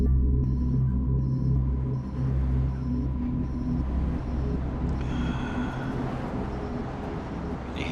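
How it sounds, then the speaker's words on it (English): Intense storm wind in Tierra del Fuego, Argentina, a loud continuous low roar and rumble with gusting surges throughout, close and unbroken. "The wind is just insane right now."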